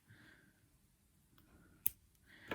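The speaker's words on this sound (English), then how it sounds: "I'm just going to snip this bit here with my scissors" Scissors snipping through crochet yarn: a couple of sharp, close clicks, one crisp snap midway and another at the end, over a quiet background.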